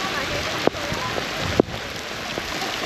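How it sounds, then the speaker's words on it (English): Torrential downpour on the Mekong River near Pak Bang, a steady broadband hiss of heavy rain with two sharp knocks or drops standing out against it. "It is torrential downpour in the middle of Pak Bang."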